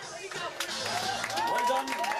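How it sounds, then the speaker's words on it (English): A crowd at an All Ireland celebration in Carrolls, Durrow breaks into a short round of clapping mixed with cheering and raised voices, close and lively throughout. "a big round of applause."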